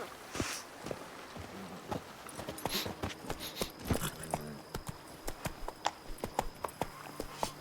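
Roach, a horse in The Witcher 3, hooves clip-clopping in a quick, uneven rhythm on hard ground, close and fairly loud, with a few heavier thuds and a faint steady tone underneath.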